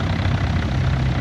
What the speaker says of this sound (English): Another little Minneapolis Moline in its working gear. Nice little tractor.